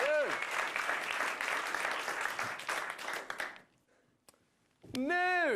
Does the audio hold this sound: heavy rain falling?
no